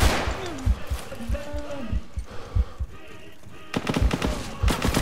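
Gunfire and machine gun bursts in the World War II shooter game Resistance and Liberation crack out in sharp, irregular shots with a dense rapid volley near the end, while players talk excitedly over the action.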